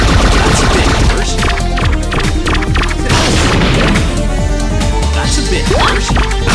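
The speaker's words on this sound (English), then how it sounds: "Bomb man, that's really dangerous. Stop setting off bombs." Bombs from Bomb Man burst in rapid succession in the video game Mega Man Powered Up, a dense barrage of loud booms and crashing blasts over busy game music.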